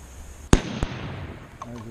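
A single sharp, loud long-range rifle shot cracks at an ultra-long-range shooting session, followed by a quieter second report or echo and a brief ring of reverberation across open ground.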